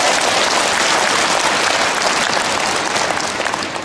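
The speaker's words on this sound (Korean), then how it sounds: "손 내려 박수 한번 쳐드립니다" Audience applause fills a church lecture hall at a Catholic diocesan charismatic gathering, steady dense clapping from many hands sustained throughout, loud and close with no talking over it.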